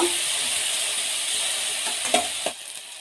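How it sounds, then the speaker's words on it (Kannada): Chopped tomato frying in about two spoons of hot oil for a village-style dal curry, giving a steady close sizzle with a couple of brief stirring scrapes near the end. "ಸಣ್ಣದೊಂದು ಟೊಮೊಟೊ ಕಟ್ ಮಾಡ್ಕೊಂಡು ಹಾಕ್ಕೊತಾ ಇದ್ದೀನಿ ಟೊಮೊಟೊ ಸ್ವಲ್ಪ ಫ್ರೈ ಮಾಡ್ಕೋಬೇಕು"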